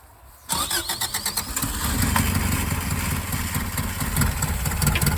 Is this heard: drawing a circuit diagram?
no